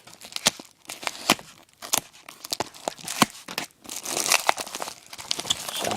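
Packaging for a replacement case for a second-generation iPod is torn and crinkled open by hand, with close bursts of ripping and crumpling in irregular spurts and brief pauses between them.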